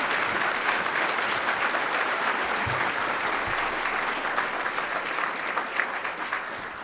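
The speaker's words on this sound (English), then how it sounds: "Please give them a round of applause." Steady audience applause at an evening service excellence awards ceremony for employees marking 20 years, a dense wash of clapping from a large room that holds level and fades a little near the end.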